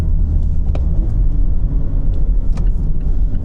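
A Mazda ND3 Miata driven briskly through corners, its engine and exhaust giving a steady, close, loud low rumble with slight rises in revs and no talking.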